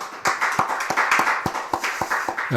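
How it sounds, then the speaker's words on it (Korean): A church congregation claps steadily in a short, close burst of roughly a dozen crisp, evenly spaced hand claps. "그럼 박수 한번 하겠습니다"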